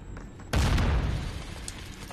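A grenade explosion in a first-person shooter game bursts suddenly as a loud, close boom, then trails off into a long rumbling decay.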